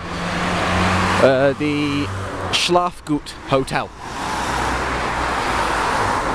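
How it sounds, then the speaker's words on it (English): Loud street traffic roars steadily along Nürnberger Straße, a continuous roadway hum of passing cars with a voice talking over it midway. "Traffic is loud, so I don't know if you even heard that."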